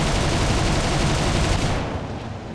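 Cannon and machine-gun fire from an FW 190 D-9 fighter in War Thunder roars as a dense, continuous loud burst, then tails off slightly toward the end.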